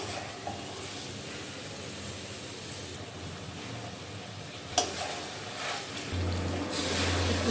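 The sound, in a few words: frying taro stolons in spice paste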